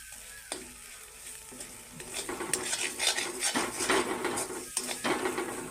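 A thick spice paste with ground cashews sizzles and fries in a pan for potol (pointed gourd) korma while a utensil scrapes and stirs it repeatedly, clattering against the metal.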